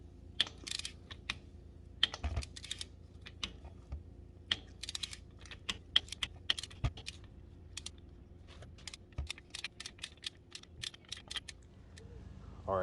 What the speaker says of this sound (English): Torque till I hit a click.